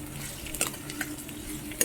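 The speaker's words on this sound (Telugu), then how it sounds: "ఇవన్నీ బాగా ఫ్రై అవుతున్నాయి." Onions, green chillies and curry leaves fry in oil for a cucumber-tomato curry, giving a soft, quiet sizzle broken by a few sharp taps and scrapes of a stirring utensil against the pan.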